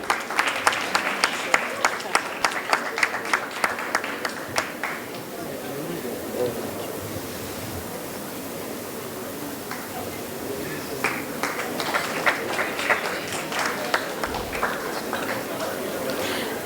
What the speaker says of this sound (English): A loud round of applause for sir.